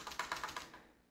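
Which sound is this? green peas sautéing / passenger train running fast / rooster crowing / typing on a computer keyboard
typing on a computer keyboard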